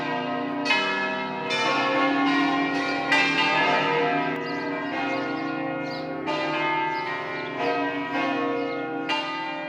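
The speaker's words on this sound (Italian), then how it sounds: "c'è stato anche lì il suono della campana" A large bell at the Monte Mesma nature reserve is struck repeatedly at irregular intervals, each clang ringing out and overlapping the long, shimmering decay of the last, with no voices.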